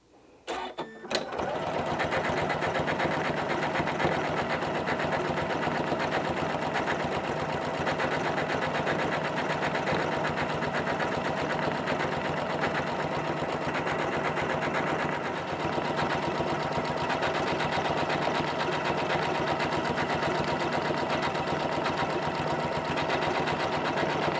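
A sewing machine stitches free-motion quilting on a whole cloth quilt, a loud, fast, even mechanical whir that starts after a brief click and runs steadily to the end.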